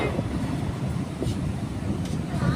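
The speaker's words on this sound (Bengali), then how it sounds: "গাড়ি পাম্মান রেলওয়ে ব্রিজের উপর দিয়ে যাচ্ছে" A train crosses the Pamban railway bridge with a steady low rumble and a rattling roar heard from inside, close and continuous. A few faint clanks and wind-like noise mix in.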